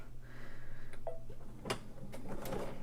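A home sewing machine stitches backward and forward across a fabric headband. The whirring is faint and quiet, broken by a few light clicks and taps as the stitching changes direction.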